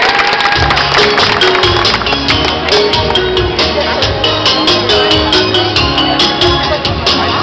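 Audience applause for a singer, a dense steady wash of clapping mixed with crowd noise and a faint musical tone, loud and continuous throughout.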